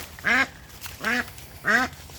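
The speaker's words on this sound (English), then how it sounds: "Scaring the ducks." Ducks quacking at a pond, three separate loud, raspy calls spaced evenly apart and close by, with no talking over them.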